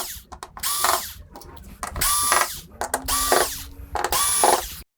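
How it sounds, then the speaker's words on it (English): Screws being backed out of the power supply board inside a VIZIO V605-G3 TV, likely with a power driver: four bursts of close, bright mechanical whirring and ratcheting, separated by short pauses. "we'll pull these screws out and the board should be loose"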